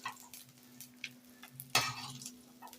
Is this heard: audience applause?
no